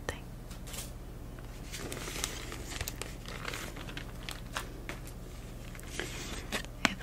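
A paper promotional envelope handled close up during a drawer clear-out, giving soft, continuous crinkling and rustling with small sharp crackles, steady and intimate against a quiet low hum.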